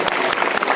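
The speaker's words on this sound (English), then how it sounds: "Give us all a round of applause," Audience applause at a high school football banquet, a brief burst of steady clapping from the crowd with no voices over it.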